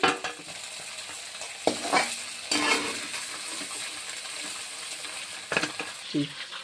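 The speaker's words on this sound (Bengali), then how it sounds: "মাংসটা ভাজা হয়ে গেল" Pieces of country chicken meat fry in hot oil in a village kitchen, with a steady sizzle broken by several sharp scraping stirs of a metal spoon against the pan.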